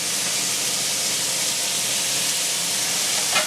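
Large burgers sizzling in a griddle pan, a steady broad hiss that holds evenly throughout with a small crackle near the end, no voices.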